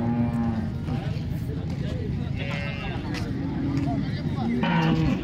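A cow lows at the Modnimb cattle market, short moos rising over steady crowd noise and nearby talking.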